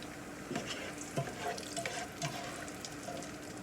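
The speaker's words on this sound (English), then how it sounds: "So now you can see all of the rendering of the bacon." Bacon frying in a pan as its fat renders, a steady close sizzle with a few soft scrapes and stirring clicks from a utensil, with no talking.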